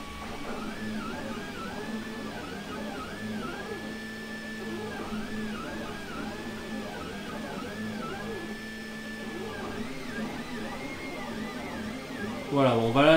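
A Stratomaker 3D printer at work, its stepper motors whining in rising and falling tones under steady mechanical whir, with a voice talking over it and a louder clatter at the end.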